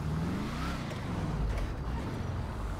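Hellcat car engine in GTA Online, a steady low rumble of a car driving along at moderate loudness with a slight rise in pitch, no voices over it.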